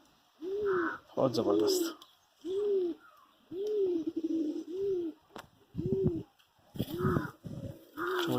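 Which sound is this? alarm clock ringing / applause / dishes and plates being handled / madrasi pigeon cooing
madrasi pigeon cooing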